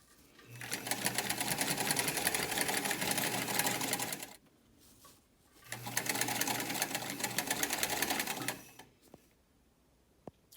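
Sewing machine stitching PUL waterproof fabric for a waterproofer in two steady close runs of about four and three seconds each, a brief pause between them, then faint handling clicks at the end.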